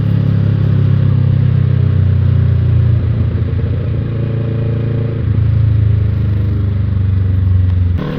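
A Kawasaki Ninja 650 (ER6F) motorcycle idles and runs steadily near a toll road, a loud, close engine drone whose pitch holds fairly even with slight shifts midway and no talk over it.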